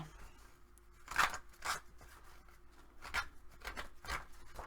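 A tool scrapes around the paper edges of a journal cover to age them, giving several short dry rasping strokes in uneven bursts, close and fairly quiet.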